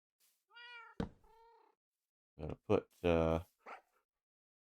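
Cats in the Minecraft video game give a few short, close meows, and a person speaks briefly between them, along with a soft knock.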